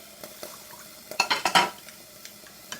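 Sugar being stirred into homemade mauby drink with anise seed, a spoon clinking and scraping in a quick burst of strokes against the pot, with a few lighter taps before and after.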